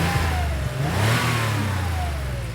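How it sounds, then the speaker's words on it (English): A car engine revving nearby on a test track, a steady mid-pitched drone that rises and dips as the throttle changes. "started revving the engine"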